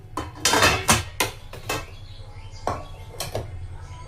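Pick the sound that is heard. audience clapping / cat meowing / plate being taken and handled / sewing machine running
plate being taken and handled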